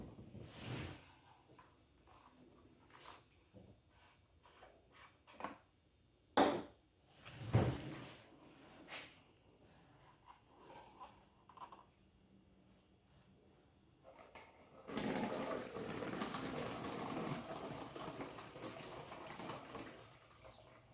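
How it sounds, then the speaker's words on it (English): Old gasoline drained from a backpack leaf blower: liquid pours steadily and splashes into a container for several seconds near the end, after scattered clicks and handling knocks from the fuel cap and blower parts. "So let's get this gasoline drained, see what it looks like, and get some fresh gas in it."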